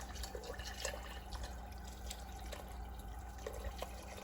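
Water pours into a pot of vegetable soup, a quiet, steady trickling with small drips and splashes, close and without talk.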